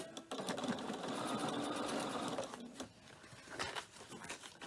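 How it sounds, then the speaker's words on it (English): A sewing machine stitches a quarter-inch seam around three sides of a cork messenger bag, running in a steady continuous whir for most of the stretch before slowing and stopping into quieter start-stop bursts. "So we're going to start here, sew around the 3 sides, 1/4 inch seam again"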